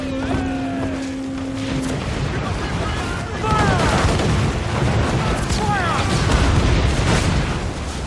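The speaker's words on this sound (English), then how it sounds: "the fort's guns are actually attacking the Spanish ship" Fort cannons firing on a Spanish ship in the Assassin's Creed IV: Black Flag video game, heavy booming blasts amid loud battle noise and whistling projectiles, growing denser toward the end.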